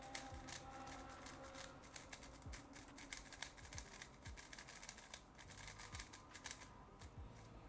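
Rapid clicking and clacking of an X-Man Tornado V3 M speed cube being turned, a steady dense patter of small plastic snaps, quiet and close.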